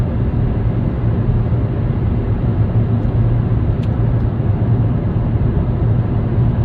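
A Vauxhall Corsa VXR cruises at night, a loud, steady low engine drone and road rumble heard from inside the cabin, unchanging with no gear shifts or talking.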